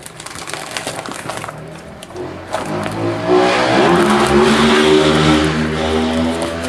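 A motorcycle passes outside, its engine rising from a faint rumble to a loud, close drone that holds steady and then slowly fades, with no talk over it.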